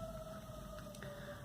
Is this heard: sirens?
yes